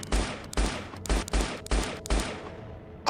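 Gunfire in STALKER GAMMA rings out as six sharp, evenly spaced shots, each close and loud with a short decaying tail, followed by a quiet pause and a faint click at the end.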